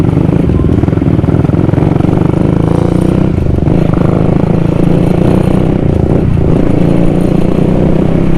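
A motorcycle engine running just after an engine oil change, with a loud, close, steady drone that stays constant throughout, carrying faint clattering.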